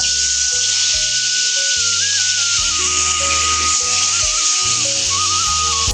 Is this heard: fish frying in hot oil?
yes